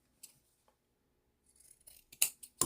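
Scissors snip the corners of a blouse collar's fabric, with faint isolated clicks at first, then three or four sharp, close cuts in quick succession near the end.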